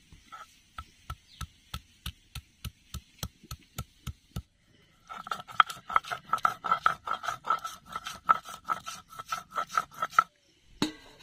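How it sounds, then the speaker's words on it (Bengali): Ginger being ground into dried red chilli paste on a grinding stone, a steady run of rhythmic rasping strokes, close and loud, with a brief pause midway before the scraping resumes faster and denser. "আমি লঙ্কা বাটার মধ্যে আদাটা দিয়ে একটু বাইটে নিব"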